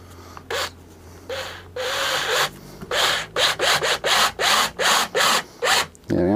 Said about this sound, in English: So let's drill a nice little hole in here